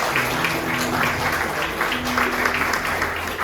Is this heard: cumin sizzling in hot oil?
no